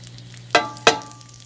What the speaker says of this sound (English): Check our oil, it's heated up. So the sage right in. Just let that fry.